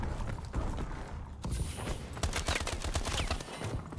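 Gunfire in Call of Duty, a fairly faint stream of rapid clattering shots with brief dips, continuing throughout.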